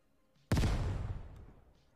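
A grenade explodes in Ground Branch with a sudden sharp blast, then a booming tail that fades over about a second, heard once and alone.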